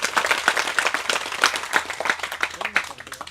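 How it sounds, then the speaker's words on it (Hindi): A crowd at a talk on a detox kit and body pH claps loudly, fast irregular hand claps packed close together for the whole stretch. "उसके लिए ताली बजाओ भाई जोर से"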